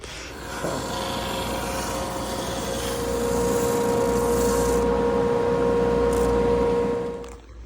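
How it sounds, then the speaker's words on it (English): A drum sander thickness-sanding wooden resonator guitar neck pieces runs loud and steady for several seconds, a continuous grinding hum with a constant motor whine, then winds down at the end. "I got them on the drum sander, and I'm videoing this now and talking because once this thing is on, it's loud"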